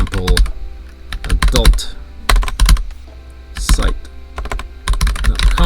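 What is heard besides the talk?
typing on a computer keyboard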